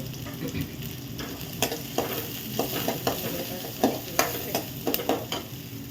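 Shallots frying in a pan with fennel seeds and cinnamon, a soft continuous sizzle broken by repeated scraping stirs and light clatters of a spoon against the pan, fairly quiet and close.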